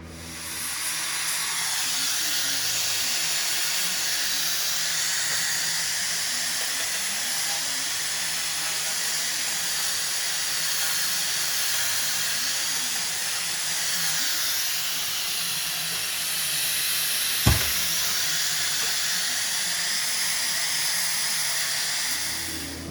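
A Ski-Doo Elan snowmobile's worn metal ski is ground clean for welding, making a long unbroken hiss with one sharp click near the end, steady and close.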